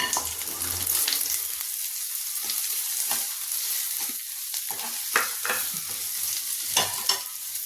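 Shallots fry with garlic in a pan for tamarind curry, giving a steady close sizzle with scraping stirs and occasional clinks of the spoon, and no talking.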